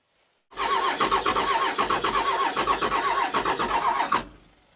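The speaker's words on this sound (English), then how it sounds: "We're going to crank it. We're going to see if it runs this time." A Cummins diesel engine, sitting for years with parts missing and injection lines loose, is cranked by the starter in a fast, even rhythmic churn for about four seconds, loud and close, without catching before it stops.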